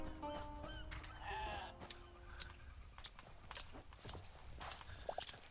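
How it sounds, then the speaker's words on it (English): Sheep in the video game Hytale bleat faintly amid game ambience and light clopping or footstep sounds, with short bleats near the start and quiet clicks scattered throughout. "Sheep. We've been waiting for sheep."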